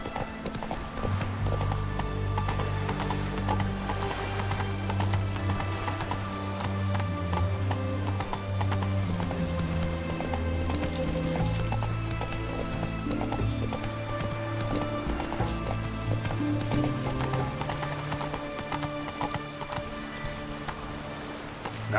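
Hooves of Roach, a horse in The Witcher 3, pound in a steady, continuous gallop, with low drones and game music sustained beneath the rhythm throughout.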